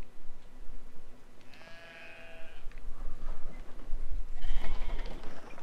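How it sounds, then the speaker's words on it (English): Sheep bleating in the video game Brothers: A Tale of Two Sons, two separate wavering bleats a few seconds apart, the second louder and rougher, over a low ambient game background with no speech. "Motherfucking sheep."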